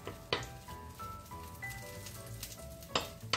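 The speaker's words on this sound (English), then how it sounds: "we put them in the pan like this" Mini veggie burger patties sizzle and crackle in a frying pan, a steady close frying hiss with a few sharper pops and spatters.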